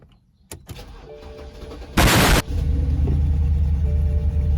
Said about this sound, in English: Okay, we're still getting the misfires.